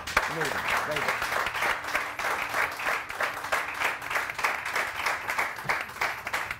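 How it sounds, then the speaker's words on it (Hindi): Studio audience applause on a Pakistani morning show, a dense, steady wash of many hands clapping that carries evenly across the whole stretch, with a few voices faintly audible underneath. "उनके लिए बहुत सारी तालियां"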